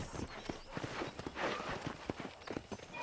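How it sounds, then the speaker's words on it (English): Horse hooves clip-clopping at a steady walking rhythm while being ridden in the video game Red Dead Redemption, close and fairly loud, with faint ambient background behind the footfalls. "let's see if you can still ride a horse"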